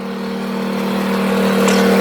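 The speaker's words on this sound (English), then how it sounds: "Of course, I've got it running to the generator right now." A generator runs steadily beside a 2018 Riverside RPM 32FBS toy hauler RV, giving a constant close hum with a strong low tone that swells slightly toward the end.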